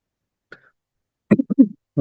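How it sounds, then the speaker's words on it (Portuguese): A short throat clearing followed by a few quick, close coughs, alone in a quiet room. "Pigarro, deixa eu tossir agora"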